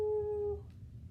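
During a children's yoga session, a voice imitates a dog with one short howl-like tone lasting about half a second, moderately loud, followed by quiet.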